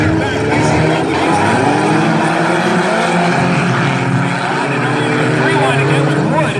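Loud, continuous engine roar of 4-cylinder class race cars circling the oval at Valley Raceway during a heat, layered revving motors blending together without a break.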